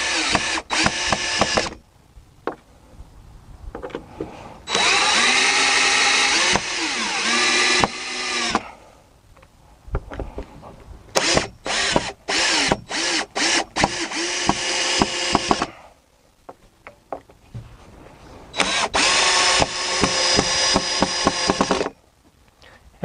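A power drill drives screws into a wooden 4x4, with several loud whirring bursts separated by pauses and short clicks and taps, close by and without talk.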